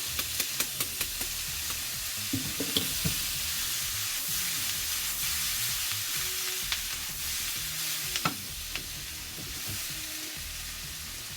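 Pork fajitas fry in a hot pan with lime zest and salt, giving a steady, loud sizzle throughout, broken by occasional clinks and stirring scrapes.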